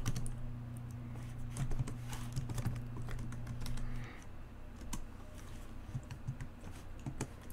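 Steady typing on a computer keyboard, fast light clicks with a few louder keystrokes, close and fairly quiet over a low electrical hum, with no talking.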